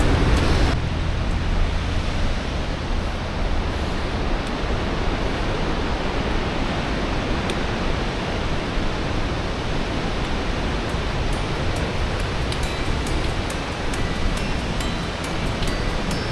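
Rushing water of the Langtang river beside a trekking trail in Langtang National Park, a loud, unbroken roar that stays steady from start to finish.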